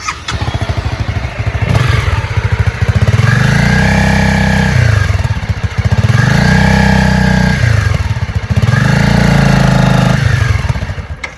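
A motorcycle engine revs hard in three loud, close bursts, each rising and holding before dropping back toward idle, as the rider prepares to launch.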